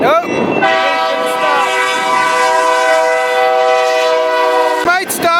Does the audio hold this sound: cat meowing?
no